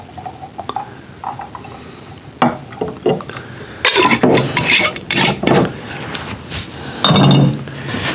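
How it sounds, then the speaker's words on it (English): 100-proof moonshine is poured into a glass jar, with close clinking of glass and a steady splashing pour that grows louder and busier toward the end. "I'm going to fill the jar up with that"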